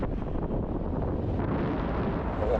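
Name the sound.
strong wind at the seaside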